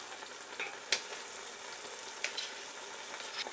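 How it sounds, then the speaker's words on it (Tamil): Yogurt being stirred into paneer biryani masala in a pot, with a steady low sizzle underneath and a few sharp scraping clinks of the spoon against the pan, no voices. "இதையும் நல்லா மிக்ஸ் பண்ணி விட்டுடலாம்"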